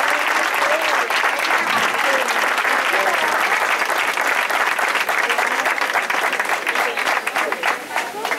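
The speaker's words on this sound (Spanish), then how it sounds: "Un aplauso fuerte." Loud, dense crowd applause at a Moros y Cristianos festival in Benamahoma, Spain, a sustained wash of many hands clapping continuously, with voices faintly mixed in.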